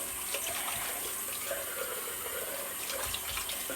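Steady running tap water for a cold rinse at a barbershop sink, a continuous close hiss and splash with no talking.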